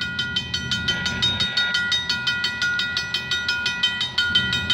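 A CP freight train passes on the Galt Subdivision at Milburough Line on a frigid evening, its wheels beating out a loud, regular clickety-clack at close range.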